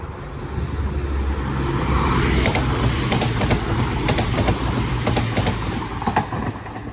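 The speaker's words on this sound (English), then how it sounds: "There's my train" A train arriving at a station on the Snow Hill Lines rumbles steadily nearby with a broad, roaring wash of wheel and engine noise that swells slightly and holds for several seconds.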